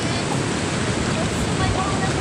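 Big ocean waves at sea during a fishing trip make a steady, loud roar of surf and wind noise that fills the whole stretch with no break.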